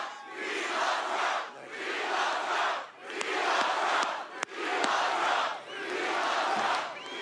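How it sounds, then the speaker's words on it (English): A large political rally crowd chants "We love Trump" in loud, rhythmic bursts, four or five repeated waves with brief dips between them, a single sharp clap or bang cutting through midway. "They're chanting, "We love Trump.""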